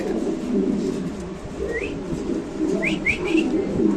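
King pigeons coo in low, throaty rolls at a pigeon market, fairly close and continuous, while a few short high chirps from other birds break in near the end.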